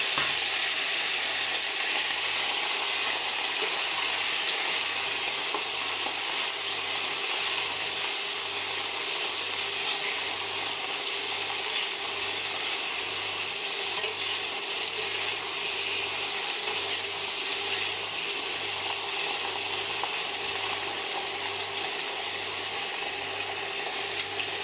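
Diced potatoes and Malabar spinach stalks fry in hot oil, giving a loud, continuous sizzle with a faint rhythmic ticking underneath that runs steadily throughout, with no voices.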